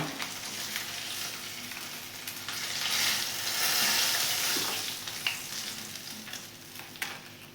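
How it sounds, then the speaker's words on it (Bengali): Koi fish frying in hot oil in a pan, a steady close sizzle that swells louder midway, with occasional scrapes and small pops, no voices. "এবার বাকি মাছগুলো এইভাবে ভেজে নেব"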